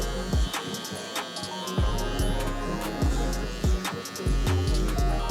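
Electric hair clippers with a number 2 guard and the lever open hum and buzz steadily up close, debulking a fade on wavy hair, their pitch dipping briefly each time the blades pass through the hair.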